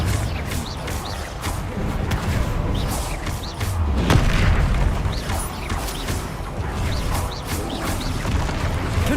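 Confringo spell blasts in Hogwarts Legacy combat, a series of booming impacts and crashes layered over clattering battle mechanics, loud and continuous with a heavier burst midway.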